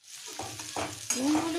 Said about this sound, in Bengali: একটু হলুদ গুঁড়ো দিয়ে ভালো করে একটু মিক্স করে নিতে হবে নুন হলুদের সাথে।